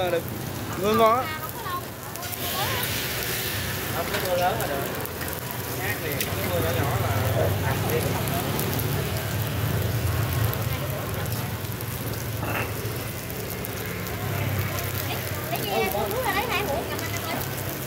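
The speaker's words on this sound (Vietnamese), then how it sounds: "Mưa lớn à, mưa lâu quá." Heavy rain falls steadily in Saigon, a continuous hiss and patter over the whole stretch, while people talk nearby over the downpour.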